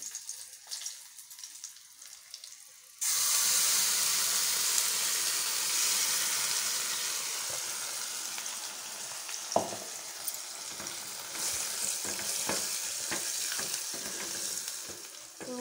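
Ridge gourd chutney hitting a hot pan, bursting into a sudden loud sizzle after quiet handling, then frying steadily with scattered stirring scrapes and clinks, close, with no voices.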